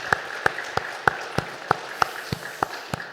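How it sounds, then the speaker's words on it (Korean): During a Sunday worship service, a church congregation claps together in slow, even unison. Each sharp clap lands alone, about three per second, with near-silence between the beats and no talking. "하나님께 박수로 영광 돌리겠습니다"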